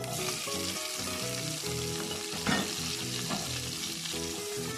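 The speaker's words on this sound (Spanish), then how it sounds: "En esa misma grasita vamos a agregar la cebolla y el ajo." Onion and garlic sizzle in rendered chicken fat in a pan, a steady close crackle with occasional stirring scrapes and a brief louder burst midway, no voices.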